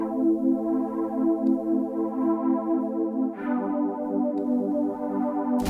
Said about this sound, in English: I just added some synth keys, and these are just playing the same chords that the guitar is playing